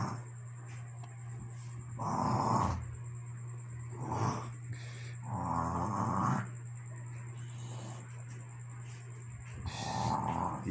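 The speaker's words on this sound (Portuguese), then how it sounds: "Você não vai deixar ninguém dormir com esse ronco não, viu?" A person snoring loudly nearby, heavy rasping breaths repeating in slow rhythm over roughly eleven seconds, with a steady background hum and other voices speaking around it.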